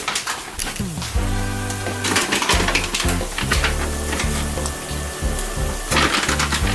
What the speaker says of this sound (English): I'm gonna add the beefless tips to my pan.